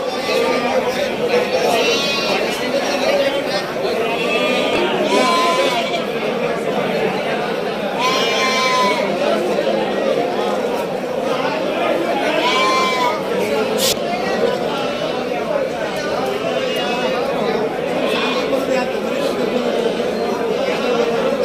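Three-month-old Bandur cross lambs at a market bleat repeatedly, calls rising every few seconds from several animals over a steady murmur of crowd chatter and people talking nearby.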